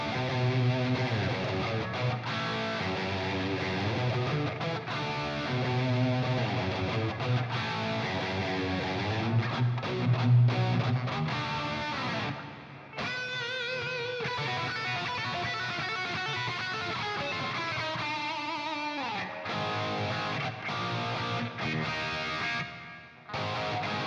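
Heavily distorted electric guitar in a brown sound from an Axe-Fx II plays chugging riffs and sustained chords, washed in reverb, loud and continuous with a couple of short pauses.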